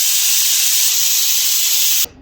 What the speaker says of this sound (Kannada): ಇದನ್ನ ಈಗ ಲಿಡ್ ಮುಚ್ಚಿ 1-2 ಪ್ರೆಷರ್ ಬರೋ ತನಕ ಬೇಯಿಸ್ಕೊಳ್ಳೋಣ.